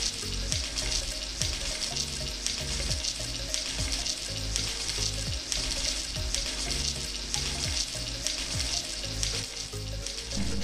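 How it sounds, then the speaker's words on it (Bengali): Cubed pointed gourd fries in hot mustard oil with a dense, continuous hiss and crackle, steady and close with a faint rhythmic stirring underneath. "আমি ডুমো করে কেটে রাখা পটলগুলো দিয়ে দেব। নাড়িয়ে চাড়িয়ে সব পটল ভেজে নেব।"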